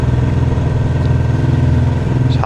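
A Honda NT700 motorcycle climbs a steep coastal hill on the North Yorkshire coast, its engine giving a loud, steady, low-pitched drone under load with no voices.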